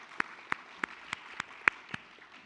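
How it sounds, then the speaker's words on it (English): Scattered clapping from a small audience at a chemical engineering meeting, about seven distinct, evenly spaced claps that sound sparse and fairly quiet over a low room hush, with no talking. "Let's give them a round of applause."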